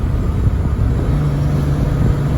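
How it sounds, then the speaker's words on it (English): A heavy hay-hauling truck engine drones steadily at close range, its low rumble shifting pitch partway through as it downshifts to third gear. "There went, look, it downshifted to third gear."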